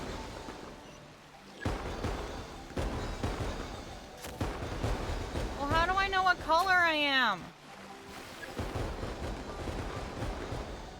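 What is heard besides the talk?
fireworks exploding in the video game Genshin Impact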